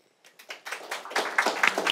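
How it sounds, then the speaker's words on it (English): Audience applause after a conference talk on carbon capture, starting from silence and building into a dense, growing patter of many hands. "With that, I would like to give them a warm applause."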